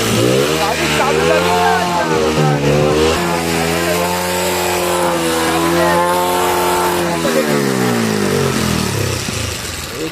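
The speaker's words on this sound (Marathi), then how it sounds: "गाडी चालू झालेली आहे" A motorcycle engine running after a carburetor repair, revving up and down in long rising and falling sweeps, loud and close, with a person talking over it.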